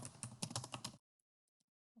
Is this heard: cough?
no